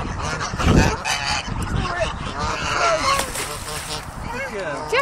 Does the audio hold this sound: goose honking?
yes